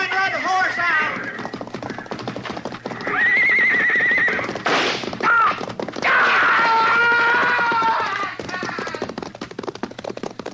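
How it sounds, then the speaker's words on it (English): A horse being ridden out from a burning hayrick whinnies loudly in long shrill neighs over hoofbeats, with shouting voices around it in a tense Western scene. "Look, he's trying to ride the horse out."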